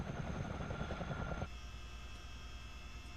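A simulated CH47D Chinook helicopter flies in a game, its rotor and engine drone loud and dense at first, then dropping suddenly to a quieter, steadier hum.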